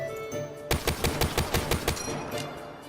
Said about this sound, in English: Here's the DBSR 50's fire rate from hipfire